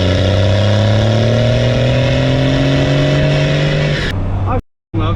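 A 12-valve Cummins diesel truck engine roars loudly as it accelerates, the deep rumble climbing in pitch through the gear before cutting off abruptly; voices are mixed in.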